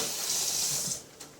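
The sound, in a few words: tap water running while rinsing a knife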